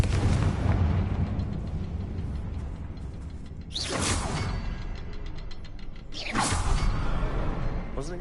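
A Confringo fire spell going off in the Hogwarts Legacy video game, heard as a broad roaring blast with a rumbling tail, preceded by dense layered game noise. A second whooshing burst follows a couple of seconds later.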